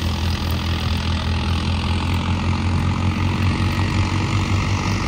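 A Mahindra tractor engine idles steadily with a loud, continuous low rumble and throb, nearby and unbroken, with no voices over it.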